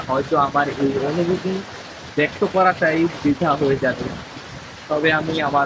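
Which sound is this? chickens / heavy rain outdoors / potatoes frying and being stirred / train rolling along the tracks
heavy rain outdoors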